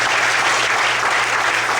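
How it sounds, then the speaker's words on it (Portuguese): Loud, dense applause from a large church congregation, sustained and even throughout with no pauses or talking. "Quantos podem aplaudir bem forte ao Senhor essa noite?"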